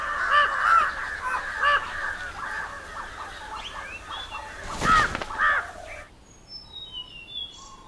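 Several crows caw in quick succession in the Bandhavgarh forest of India, gathering at a tiger kill. The raspy calls overlap steadily and sound close, then break off abruptly into near quiet for the last two seconds.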